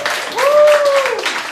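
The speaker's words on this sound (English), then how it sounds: "can we give a big round of applause to all the speakers that have gone first" Audience applause for a lineup of speakers at a Massive Success Breakthrough event, a broad crowd clatter with a rising and falling vocal whoop riding over it, steady and moderately loud through the brief moment.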